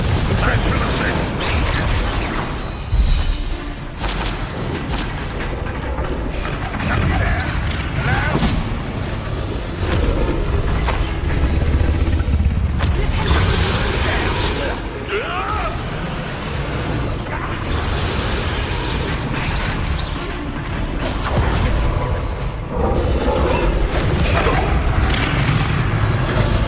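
Fiery spell blasts from Confringo and Incendio cast in a Hogwarts Legacy battle: dense, continuous booming and crackling bursts over a steady roar of combat, with character voices speaking through the noise.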